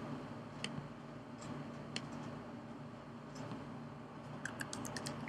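Keystrokes on a computer keyboard while a word is typed, a scatter of faint, quiet clicks spread irregularly across the stretch with a denser burst near the end, over a low steady room hum.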